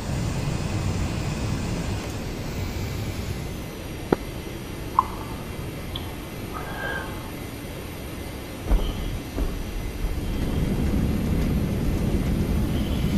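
A Harrier jet in the DCS flight simulator game gives a steady, loud roar of broadband engine noise throughout, with a few sharp clicks and thumps rising above the continuous drone.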